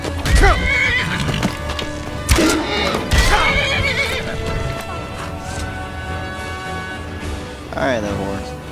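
A horse whinnies loudly several times amid clip-clopping hooves in the video game Skyrim: Dragonborn, while a voice talks over the scene.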